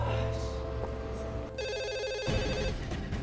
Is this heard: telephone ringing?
yes